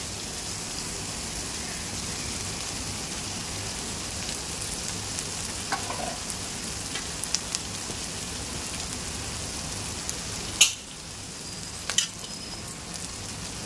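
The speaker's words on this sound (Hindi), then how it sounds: "तो अब इसके अंदर हम डालेंगे हमारे ये राइस जो बॉईल करके रखे हैं" Boiled rice and egg for a street-style tawa pulao fry on a hot griddle: a continuous loud, even sizzling hiss with a few sharp scraping knocks as the mix is stirred.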